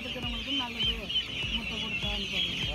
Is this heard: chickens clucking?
yes